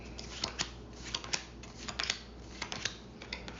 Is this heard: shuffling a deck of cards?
yes